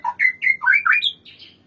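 A white-rumped shama (murai batu) of the Sonokeling type sings a close, loud run of about seven quick whistled notes that rise and fall in varied pitch, then fade into softer final notes.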